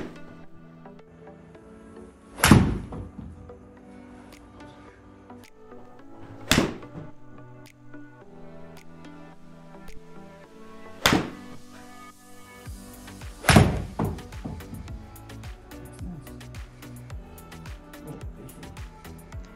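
Golf balls struck with a 7 iron in an indoor golf simulator, four sharp thwacks spaced several seconds apart, each followed by a brief thud, over faint background music.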